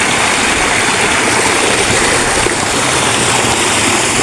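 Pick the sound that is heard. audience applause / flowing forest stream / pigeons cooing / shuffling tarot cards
flowing forest stream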